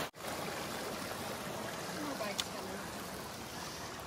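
Stream water on the Tahoe Rim Trail flows steadily into a drinking bottle, a close, continuous rushing trickle with a faint brief click partway through.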